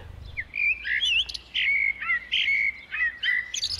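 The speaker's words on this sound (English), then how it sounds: "The opera-like tune of the Eurasian blackbird." Eurasian blackbird singing in a European urban area in spring, a series of clear, fluty warbled phrases separated by short pauses, close and prominent over a quiet background.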